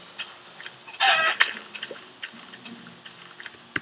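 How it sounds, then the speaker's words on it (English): Chickens in the Minecraft video game cluck in short bursts, with a louder squawk near the middle among scattered clicks and game noises, fairly close and with no talking. "Whoa, chicken."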